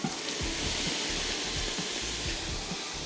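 Steady hissing sizzle as hot water hits a hot pot of Durban curry, with scattered bubbling pops beneath the constant wash of steam.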